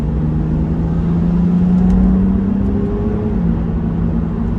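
A BMW Z4 Coupe accelerating hard, its engine droning loud and close with a steady rising tone through the run, a continuous roar with no speech over it.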